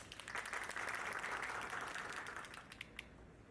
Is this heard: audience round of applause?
yes